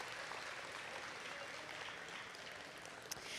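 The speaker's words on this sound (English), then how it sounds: "Let's give our students from the Mark Twain Dual Language Academy a round of applause." Applause from a large audience at a school district's State of the District event, a smooth, sustained wash of clapping heard from a distance at low volume.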